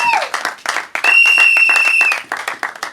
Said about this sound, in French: Est-ce que je peux entendre le tonnerre d'acclamation pour eux?